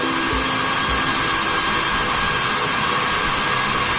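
A handheld electric egg whisk frothing egg whites for macarons gives a steady, loud motor whir that runs unbroken throughout, with no talking.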